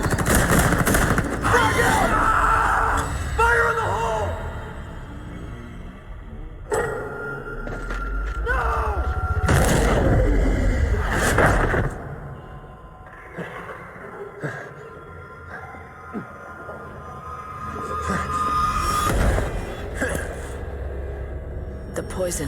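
Grenade blast and gunfire in the Call of Duty: Ghosts Extinction mode, loud rumbling booms and sharp bursts of shots mixed with shouted voices throughout.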